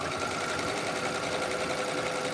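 A refurbished vintage Singer Featherweight sewing machine runs steadily at full speed, a continuous close whirring clatter with no pauses and no voices.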